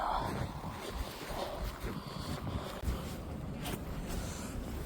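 Cold winter wind blows across frozen Näsijärvi Lake in Tampere, Finland, at night at -15 degrees, a steady rushing roar with gusty buffeting against the microphone and no one talking.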